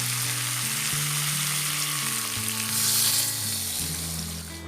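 Squid simmering in a pan with water, lemongrass, bay leaves and lime leaves, giving a steady, loud, close bubbling sizzle that runs unbroken under a low hum, with no voices.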